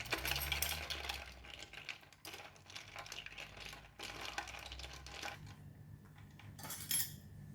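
A spoon clinks against a glass of calamansi juice with ice while stirring, giving a run of light, irregular metallic taps and rattles close by, with brief pauses between bursts.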